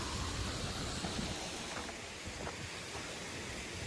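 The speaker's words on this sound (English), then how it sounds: "And there's part of the waterfall." A waterfall in a city park roars as a steady, dense broadband rush, loud and continuous throughout with no talking.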